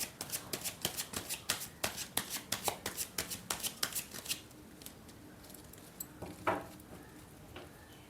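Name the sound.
shuffling tarot cards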